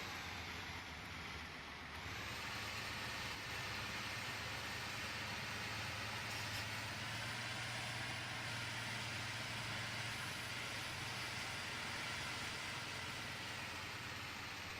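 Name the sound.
Ford 6640 tractor engine in video game Farming Simulator 2015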